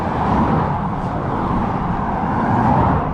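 Steady road traffic near 7 Mile Beach, a loud continuous rush of cars passing close by with no break and no talk.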